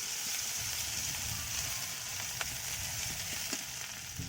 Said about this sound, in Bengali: সেই কড়াতে পেঁয়াজ দিয়ে দিচ্ছি। ছোট ছোট করে পেঁয়াজ কাটা দুটো দিয়ে দিলাম।